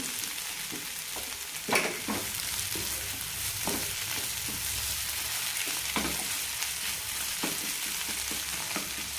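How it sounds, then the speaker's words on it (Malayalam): Onions sizzle and fry steadily in a pan for a Kerala-style all-purpose curry gravy, with occasional louder scrapes and stirs of a spoon cutting through the continuous crackle. "സവാളയെല്ലാം കാരമലൈസ് ആവാൻ തുടങ്ങിയിട്ടുണ്ട്"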